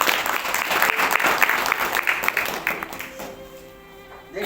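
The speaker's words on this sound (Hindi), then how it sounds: "जोर से ताली बजाएंगे एक बार।" Church congregation at an Easter Sunday worship service claps loudly together for about three seconds, a dense steady applause that then thins and fades as the room settles.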